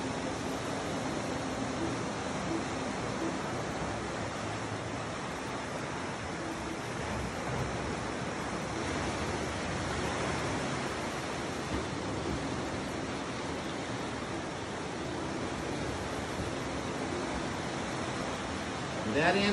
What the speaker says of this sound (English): You hear the ocean crashing all night.